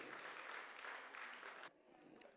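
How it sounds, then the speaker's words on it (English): Audience applause at an art auction during a fundraising gala, a dense steady clatter of clapping that cuts off abruptly near the end, leaving faint room noise. "Round of applause for Liz"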